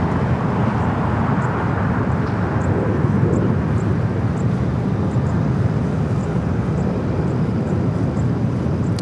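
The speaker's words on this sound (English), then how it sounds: "Hawaiian 33, the A330 now finally cleared for takeoff" A Hawaiian Airlines Airbus A330 jet takes off at LAX, its engines producing a steady, broad, loud roar that holds without letup, with no talk over it.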